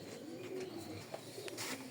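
Soft, low coos from racing pigeons repeat several times at a moderate distance, with faint chirps and light background noise around them.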